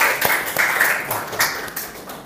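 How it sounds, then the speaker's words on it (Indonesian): A classroom of students gives a short burst of applause for a group that has just presented, with mixed clapping that fades within a couple of seconds. "Silakan berikan tepuk tangan"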